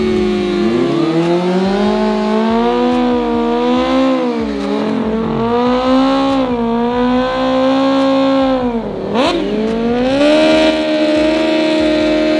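A Kawasaki race motorcycle at a South African cash-days drag event screams loudly at high revs, its engine note climbing through repeated gear changes, dipping briefly and then surging again as it races close past.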